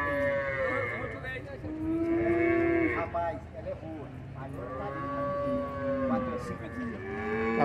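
Cattle low repeatedly at a traditional livestock fair in São Bento do Una, Pernambuco, long drawn-out moos rising and falling over a crowded, murmuring background, with people talking nearby.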